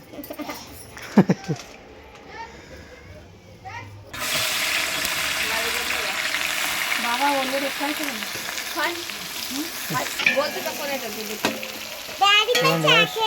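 Chopped onion hits a hot pan over a wood fire and breaks into a loud, continuous sizzle after a few seconds, with people chatting nearby and the clatter of utensils.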